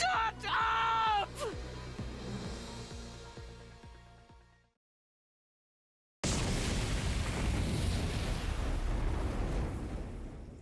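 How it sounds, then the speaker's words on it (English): A large explosion in The Hundred Line: Last Defense Academy on PC bursts in after a brief silence, a loud, sustained roaring blast with rumbling low end that stays dense for several seconds after a stretch of game voices and music. "Immediately after, there was a large explosion"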